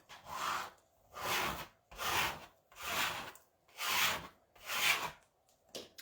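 Vinyl transfer being rubbed onto canvas with firm back-and-forth strokes, about six steady rasping passes in an even rhythm, close and clear with no talking.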